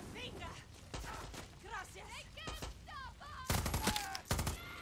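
Gunfire in the video game Far Cry 6: a dense burst of rapid shots near the end follows a stretch of in-game voices and action, loud and close.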